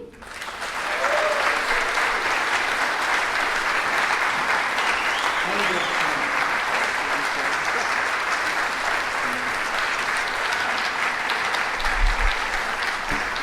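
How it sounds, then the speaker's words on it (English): Sustained applause from an audience at the close of a talk by Dr. James Lindsay, dense and steady, filling the room at full volume for the whole stretch. "Let's give him another round of applause."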